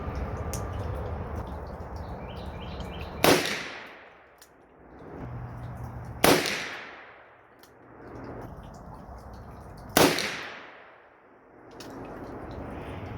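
Three heavy shots from a Ruger Super Redhawk 10mm revolver firing hot loads, spaced a few seconds apart, each a sharp loud crack with a long ringing outdoor decay.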